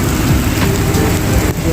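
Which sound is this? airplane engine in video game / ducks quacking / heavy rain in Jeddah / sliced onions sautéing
heavy rain in Jeddah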